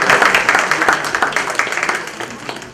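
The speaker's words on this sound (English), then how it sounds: "give a big round of applause" Audience clapping at a book launch for Col Surjan Randhawa, a lively round of applause that starts strong, then thins and softens toward the end, with a few voices murmuring underneath.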